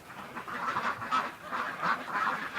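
Domestic ducks quack and honk repeatedly inside an enclosed building in winter, their calls coming in overlapping bursts at moderate, steady loudness with no talking.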